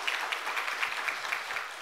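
Faint, steady applause from a church congregation during a Sunday worship service, a soft continuous patter of many hands with no standout claps, heard from a distance for a couple of seconds.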